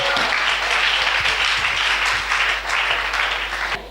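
A church congregation applauds steadily in a dense, close wash of clapping that keeps its level throughout.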